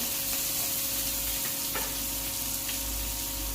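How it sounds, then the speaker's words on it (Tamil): Tomatoes and onions sauté for egg curry in a steady, dense sizzle with faint stirring ticks, continuous and close, no voices. "தக்காளி ஆட் பண்ணிக்கலாம். இது நல்லா வதங்கட்டும்."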